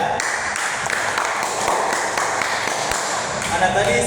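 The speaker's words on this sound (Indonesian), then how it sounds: "Tepuk tangan buat Rian." Students in a practice-teaching classroom clap for a classmate, a continuous close patter of many hands at an even level throughout, with faint room noise mixed in.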